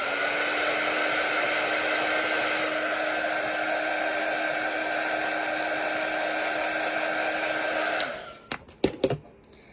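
A hair dryer blowing steadily and loudly close by while drying chalk paste on a letter board, then switched off near the end, followed by a few handling knocks.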